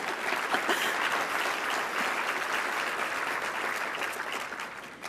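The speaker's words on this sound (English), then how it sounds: "let's clap for that" Sustained applause from an audience at a business chamber's annual meeting, a dense steady wash of many hands clapping throughout, fairly distant and even in level.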